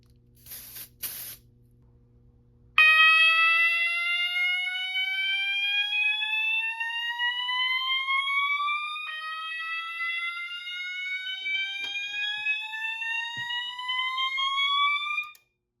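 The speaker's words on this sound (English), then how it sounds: "And now for the smoke detector." A smoke detector on zone 2 triggers a Notifier SGL-2000 fire alarm panel, which sends out a loud, steady electronic alarm tone with rising sweeps. It starts abruptly after a few seconds of quiet clicks and holds near and continuous until it cuts off at the end.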